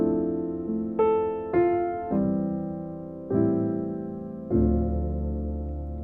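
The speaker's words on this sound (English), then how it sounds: "instead of playing just straight from the 5/7 to the 6, I like including different passing chords, so it sounds something like this" Gospel jazz piano passing chords from the hymn There Is None Like You, struck as about six rich, ringing chords in a slow sequence, each decaying before the next, with nothing else audible.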